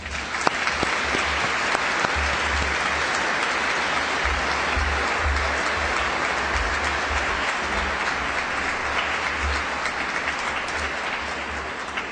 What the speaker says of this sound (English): please join me in giving all those names a round of applause